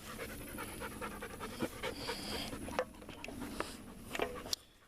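A dog pants rapidly and steadily close by on a nature walk at the Fort Worth Nature Refuge, with faint rustling and footsteps in the background.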